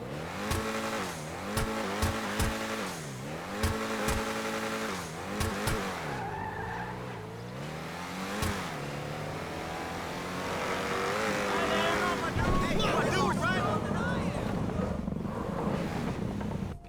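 Scramjet vehicle engine in a video game, revving and shifting pitch repeatedly with sharp bursts, then settling into a rougher, louder roar toward the end; no talking.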